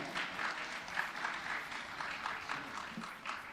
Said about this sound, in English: let's give them a big round of applause once again.